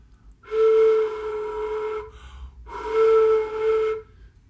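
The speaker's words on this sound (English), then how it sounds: "If you have a large area for the hole, the embouchure, it's going to be very airy." A flute played with a too-large embouchure gives two long, breathy, airy tones, each about a second and a half, with heavy air noise over a weak pitch, close up and with no talk.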